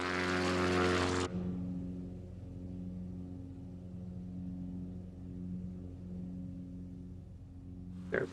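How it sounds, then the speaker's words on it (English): A propeller engine drones in a flight simulator with an NX Cub light aircraft over the Scottish Highlands. A loud broadband burst sits on top of a steady tonal engine hum, and the hum then carries on alone at moderate level. "So lower the throttle of the NX Cup a bit."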